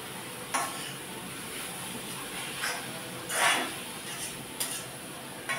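Ground coconut stirred into carrots frying in a pan, a steady soft sizzle under scraping spoon strokes against the pan, with a few louder stirring bursts.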